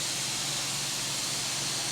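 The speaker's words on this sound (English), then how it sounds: "high temperature steam." A high-temperature steam cleaner used on a large university building in London hisses in a steady, loud, broadband rush that runs without a break.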